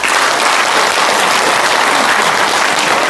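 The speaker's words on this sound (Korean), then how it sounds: "모두를 위해서 박수 한번 보내주십시오" Applause from a sizeable audience at a Korean book launch event, dense continuous clapping, loud and close, filling the whole moment without talk.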